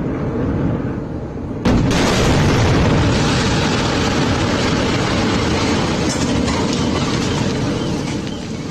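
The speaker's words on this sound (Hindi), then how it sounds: "देखिए बड़ा धमाका" A sudden heavy blast from explosives demolishing a house in the West Bank, one loud boom followed by a long, dense rumbling roar of debris that slowly fades.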